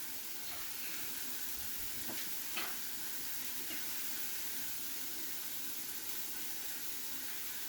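Garlic and onion frying in a pan, giving a steady, even sizzle and hiss throughout, with a couple of faint clinks and no talk.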